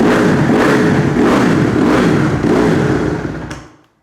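A cheap dirt bike engine with a hanging idle runs loud and close while its idle is adjusted, the rough, steady idle swelling in repeated revs before cutting out abruptly near the end.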